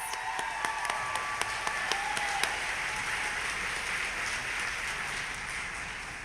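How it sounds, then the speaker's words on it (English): An audience at the Marion County Golden Apple awards applauds the class of 2026, a steady wash of many hands clapping at moderate volume, with a few sharper individual claps standing out early on. "one more round of applause for the class of 2026"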